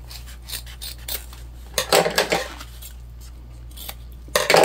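Sewing scissors snip through fabric to trim bulk from a seam allowance, a series of close, crisp cuts in uneven bursts with short pauses between them and no talking.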